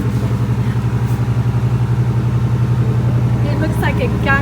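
A car engine idles with a loud, rhythmic, throbbing rumble close by, and voices speak over it toward the end.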